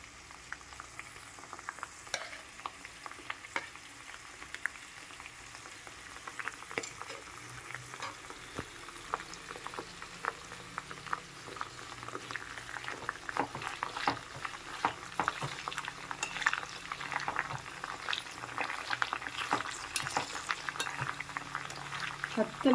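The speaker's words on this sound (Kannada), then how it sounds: "ಹತ್ತು ನಿಮಿಷ ಹೀಗೆ ಕುದೀತಾ ಇರಲಿ." Homemade hair oil with aloe vera gel simmers in a pan, a faint, steady crackling and bubbling with scattered soft pops that grow slightly busier over time, heard close and alone.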